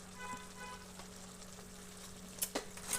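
Crab masala gravy sizzles softly in a pan while being stirred, a quiet, steady frying hiss with a few sharper scraping clinks near the end.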